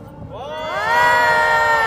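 A crowd at a political rally at a university swells into loud, sustained cheering and shouting, with voices rising together and holding at full strength.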